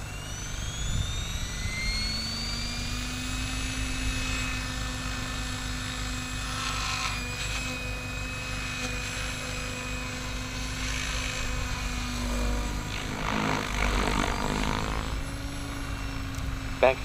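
Protos Max V2 RC helicopter motor and rotor spinning on a maiden flight, a steady high whine with a low rotor drone, close and continuous, swelling slightly near the end.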